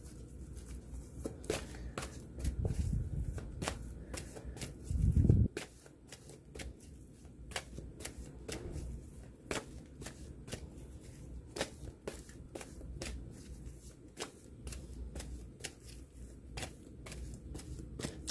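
Someone shuffles and cuts a deck of cards during a French card reading. A loud riffle and shuffle comes early, followed by a long run of scattered close card snaps and taps. No one speaks.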